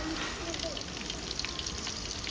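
Drumsticks (moringa pods) frying in hot oil with cumin for sambar, giving a steady, close sizzle and crackle that runs unbroken throughout.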